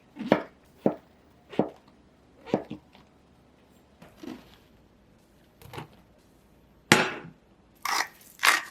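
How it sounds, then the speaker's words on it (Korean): A knife cuts king oyster mushrooms lengthwise on a board, making a series of distinct, close thuds in an uneven rhythm, with quiet pauses between strokes. "새송이 버섯은 길게 썰어 줄게요"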